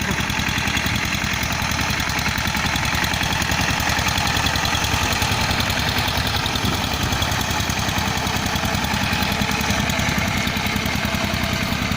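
A tractor engine ploughing a field chugs steadily and loudly with a rhythmic low knocking, no voices.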